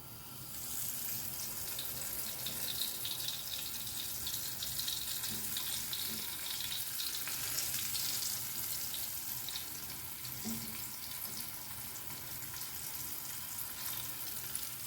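Flour-dredged fish sizzling in a pan of oil, a dense continuous crackle and hiss that stays steady and moderately close throughout, with no talking.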